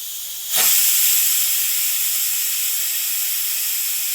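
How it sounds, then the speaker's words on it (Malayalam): After a brief quiet moment, a pressure cooker whistle bursts into a loud, sustained hiss of escaping steam that carries on steadily while cooking chicken biryani. "ഇപ്പോൾ നമ്മുടെ കുക്കറിൻ്റെ വിസിൽ ഇവിടെ വന്നിട്ടുണ്ട്"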